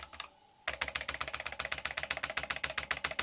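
Fingers type quickly on a robust mechanical Amstrad computer keyboard. The keys clack loudly and close up in an even, rapid rhythm that starts after a brief quiet moment, with no voices heard.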